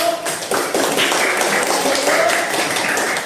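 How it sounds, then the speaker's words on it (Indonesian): A classroom group claps for a presenting group of students during a teacher training session, a dense, steady patter of hands that stays loud for about three seconds, with faint voices underneath. "Ya, beri tepuk tangan bagi kelompok 1."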